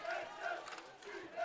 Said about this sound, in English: The Carlisle crowd comes alive.